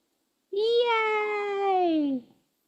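A pet cat gives one long, drawn-out meow, clear and fairly close, rising slightly and then sliding down before it stops, alone against a quiet background.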